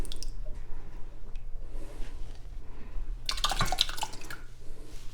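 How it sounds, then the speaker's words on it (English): Store-bought salsa is poured into a pot of water, giving a brief wet squishing plop and spatter near the end over a low steady hum. "And then I'm going to put 1 cup of the salsa."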